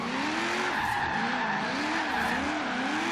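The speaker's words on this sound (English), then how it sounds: "So let's see how she drifts here." A car drifting, its tires squealing loudly and continuously with wavering pitch as the engine roars underneath, close and sustained for about three seconds.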